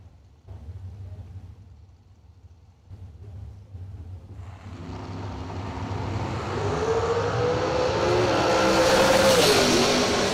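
Drag racing cars launch down the strip at a bracket racing event, a low idling rumble swelling into a loud, roaring acceleration that builds and rises in pitch as the cars pull away, with no talking.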